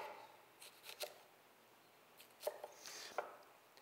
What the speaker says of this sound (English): And then I'm gonna make some cuts straight up and down